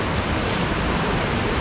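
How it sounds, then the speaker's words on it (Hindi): The Ganges river at Rishikesh rushes in a steady, dense wash of flowing water, loud and close, with no voices or breaks. "आँख मूंदकर जो नदी का म्यूज़िक है, गंगा नदी की कलकल"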